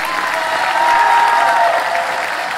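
An indoor audience applauds steadily, dense clapping that swells slightly and then fades over a couple of seconds.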